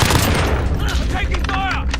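Video-game gunfire crackles in a dense, continuous barrage, with voices talking over the shooting throughout.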